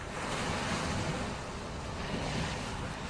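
Floodwater rushing through city streets during heavy monsoon flooding in Assam, a steady, loud broadband roar of churning water and wind that continues without break, with no voices.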